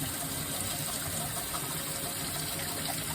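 Water runs steadily from a tap while a thrift store mug is rinsed clean, a soft, even hiss of flow that continues unbroken throughout.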